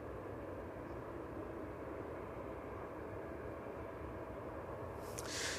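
Aircraft landing at East Midlands Airport in the evening, heard as a continuous, moderately distant engine rumble and rushing noise that swells slightly near the end, with no voices.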